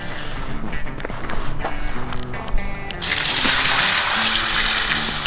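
Water pours from a container of dirt and chicken manure onto a small pine tree and bush on a farm, first with irregular splashing and trickling, then a loud, steady gush.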